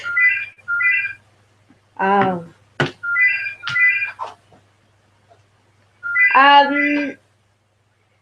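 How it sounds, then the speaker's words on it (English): A telephone rings in repeated paired trills with short gaps in between, fairly loud and close, while people talk in between the rings. "It's the phone ringing."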